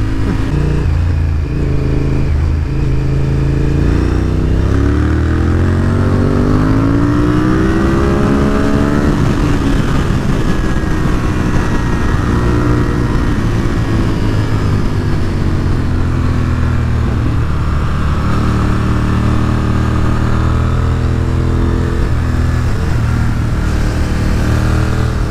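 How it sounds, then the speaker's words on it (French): A sport motorcycle engine revs loudly and continuously, pitch sweeping up and down as it accelerates and shifts, close and roaring throughout. "Je pense que c'est une sportive hein, comme moto"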